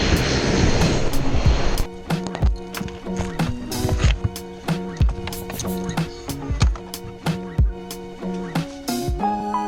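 A Flybe propeller airliner's engine roars loudly at first, then gives way to clattering, rhythmic knocks and thumps close by.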